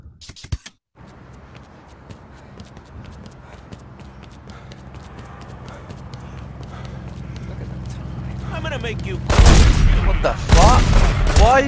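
Gunfire in The Godfather video game, set in Little Italy: a low rumble of activity builds up to a loud burst of rapid shots near the end, with someone talking over it.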